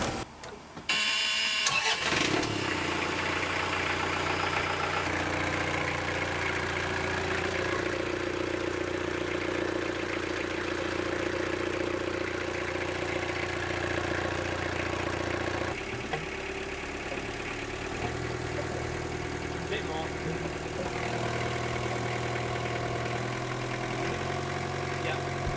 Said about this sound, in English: So we've got the engine idling at high RPMs.